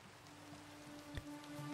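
Rain in the video game Minecraft, a faint, steady patter and hiss with no talking.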